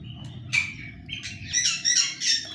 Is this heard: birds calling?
yes